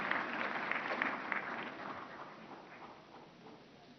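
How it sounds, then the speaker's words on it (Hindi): Applause from a crowd at a national political conclave, fairly faint and steady throughout, gradually tapering off. "जोरदार तालियां।"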